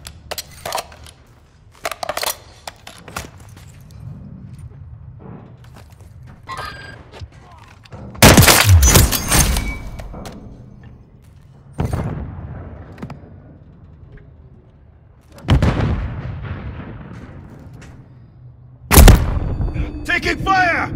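Gunfire in Call of Duty: Modern Warfare III, a few loud sharp blasts spread out across the span, with clicks, rattles and softer game noise between them and a voice talking at times.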